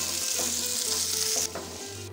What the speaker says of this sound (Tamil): அதுவும் இதுவும் ரெண்டு சேர்த்து ரெண்டு நிமிஷம் எண்ணெயிலேயே வதக்கணுங்க.